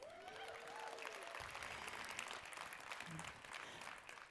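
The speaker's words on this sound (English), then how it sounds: "We can clap for that." An audience applauds at a talk honoring a Planned Parenthood board member, a moderate wash of clapping heard from the room, with some faint voice-like tones near the start.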